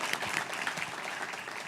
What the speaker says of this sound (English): I can give a round of applause